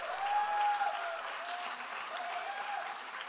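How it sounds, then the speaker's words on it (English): Audience at a 2018 awards ceremony giving a sustained round of applause, steady dense clapping throughout with a brief whistle-like tone riding on top early on. "Could you gentlemen please stand up so we can give you a round of applause for all of your hard"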